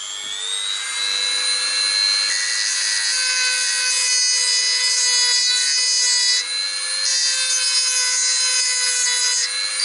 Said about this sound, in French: je vais essayer de le meuler